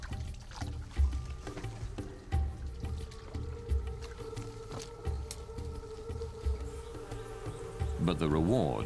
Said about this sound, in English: This is what the honey collectors have searched for: hives dripping with bees and honey.